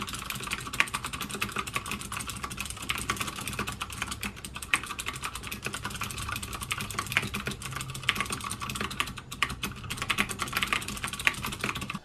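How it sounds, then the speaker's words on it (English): Fast, continuous typing on a CODE mechanical keyboard with Cherry MX Green switches dampened by O-rings, soft, muted keystrokes in a dense steady patter, close by and fairly quiet. "the sound dampening O-rings added on, which is gonna actually remove the clack sound from the typing"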